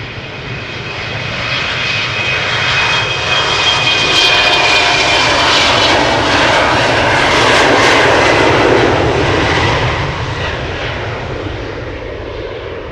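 A KLM jet airliner departs Amsterdam Schiphol, its engines building into a loud, sustained roar that swells to a peak mid-way and then slowly fades, heard up close without talk.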